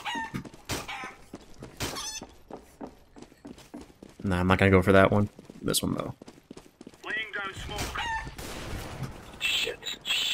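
Chickens cluck in Counter-Strike: Global Offensive on the Inferno map, short fowl calls mixed with footsteps and gunfire-like game noise while a player talks over them.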